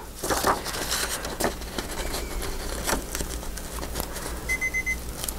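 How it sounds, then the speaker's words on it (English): A kitchen-style timer alarm goes off near the end as a short run of repeated high beeps, following scraping and rustling sounds. "oh, there's our timer."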